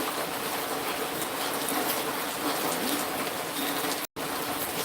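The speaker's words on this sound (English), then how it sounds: "Bitty Boo, are you getting this rain?" Steady outdoor rain falls on a job site, a constant broadband hiss of drops on surfaces that holds evenly throughout with no voices, broken only by a momentary dropout near the end.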